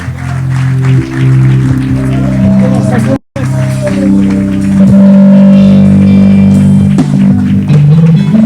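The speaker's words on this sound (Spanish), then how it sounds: "Demos un aplauso más grande al Señor." A church congregation claps and applauds at an evening worship service, steady sustained clapping carried under held keyboard or organ chords and a voice speaking over the top.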